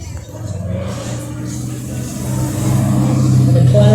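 McLaren driving past at the Targa Tasmania ceremonial start, its engine growling nearer and louder over a few seconds, with crowd chatter and talk over it.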